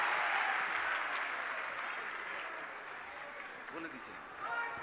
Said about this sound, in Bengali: জোরে হাততালি দিয়ে স্বাগত